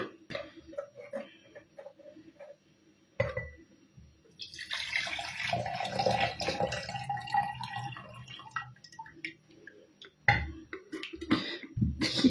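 Water poured from a container into a saucepan while making a marinade for canning tomatoes and cucumbers, a steady splashing pour running several seconds, close and fairly loud, with clinks of kitchenware before and after.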